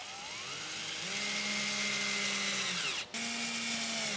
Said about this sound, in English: Let's put some screws in there. I bought some very small screws.